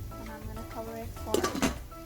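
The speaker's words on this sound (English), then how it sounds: "And I'm gonna cover it for" A lid clanks onto a cooking pot of spiced tomatoes, onions and cauliflower, two quick metallic knocks after a voice.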